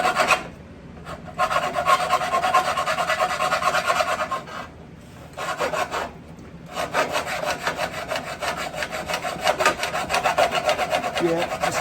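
Back-and-forth strokes of a file rasp against metal, taking off a burr, in steady gritty bursts with a few short pauses between runs, close up and without talk.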